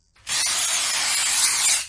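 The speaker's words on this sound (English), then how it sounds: "Just spray at human!" A continuous aerosol spray of Human Be Gone repellent hisses loud and close, starting abruptly and holding steady for almost two seconds before cutting off.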